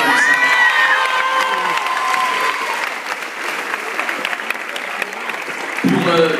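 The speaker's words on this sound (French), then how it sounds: "c'est lui qui peut l'applaudir comme ça." At the Aladdin film premiere, a crowd applauds and cheers loudly, whoops and shouts riding over dense clapping that eases midway, then swells again, with voices mixed in.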